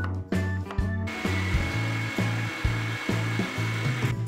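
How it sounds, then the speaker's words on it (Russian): Potato is forced through a meat grinder while making chicken draniki, giving a repeated grinding, squeaking churn in regular strokes that sounds close and fairly loud, with no voices. "И морковь пропускаем на мясорубке. И самое главное, это картофель. Делаем все то же самое с ним."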